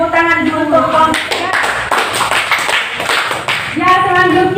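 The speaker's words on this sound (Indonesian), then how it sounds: "Ya, tepuk tangan untuk kelompok." A class applauds a student group after their presentation in an elementary school lesson, a dense, sustained clatter of many hands clapping at once, loud and near, with children's voices chiming in at the start and end.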